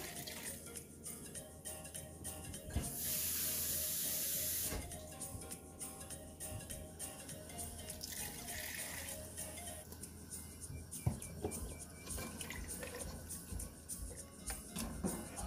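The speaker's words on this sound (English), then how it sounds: "Here I'm going to put 2 cups of water." Water pours into a pot in a brief rushing stream amid low kitchen background noise, then it stops.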